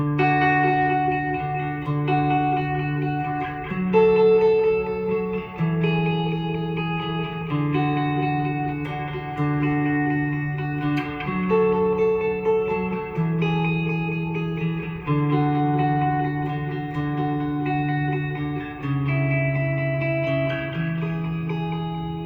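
Bright electric guitar playing a sustained, chiming part through a very short, quick delay that blends into the notes and a long-decay reverb mixed low, leaving long tails; steady and alone with no talk.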